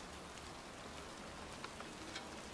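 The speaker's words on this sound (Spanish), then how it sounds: "estoy aquí en un cementerio bajo la lluvia buscando la tumba de un niño" Rain falling over a cemetery in a video game, a soft, steady hiss of drops with a few faint individual patters, quiet and constant throughout.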